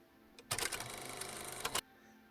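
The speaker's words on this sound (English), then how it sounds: "So let's get to the sewing machine." A short burst of rapid mechanical whirring and clatter, about a second long, starting and stopping abruptly as a sewing machine runs a quick stitch through Ankara fabric.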